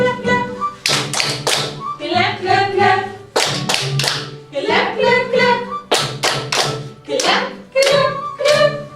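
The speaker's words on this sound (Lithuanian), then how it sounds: "mano rankos ploja" Hand claps keep time in a Lithuanian children's circle song about hands grabbing and clapping, sharp claps falling in a steady rhythm under bright sung melody with a harmonic backing throughout.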